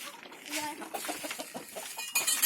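Chickens cluck softly and repeatedly nearby, a low, scattered chorus of clucks and murmurs in a quiet setting.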